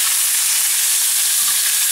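Garlic fries loudly in a hot pan in a Mediterranean-style perch dish, a dense, even sizzle that fills two seconds without pause and with no talking.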